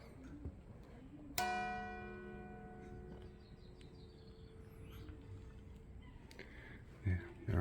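A single church tower bell at St Mary's in Rye, East Sussex, is flicked by hand, giving one bright metallic strike that rings on with a long, slowly fading hum while faint birds chirp outside.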